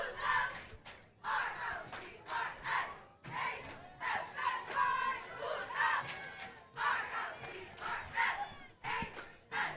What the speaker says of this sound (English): Good turnout here by the Santiago faithful.